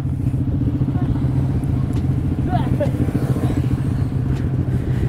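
A Yamaha motorcycle rides at night in heavy traffic in Makassar, its engine a steady, close, low drone throughout with a voice speaking over it.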